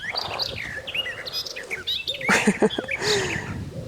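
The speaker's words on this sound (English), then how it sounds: "Thank you for that lovely song, little bird." Small songbird singing in a vegetable garden, a string of bright chirps and warbled phrases over about four seconds, fairly close and clear with no talking.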